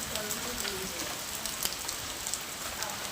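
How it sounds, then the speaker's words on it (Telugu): Hailstones fall steadily in a village hailstorm, a dense, continuous patter of hard pellets striking surfaces close by, loud and even throughout with scattered sharper impacts. "చూస్తారు కదా రాళ్ళు చూడండి అసలు ఎలా పడుతున్నాయో"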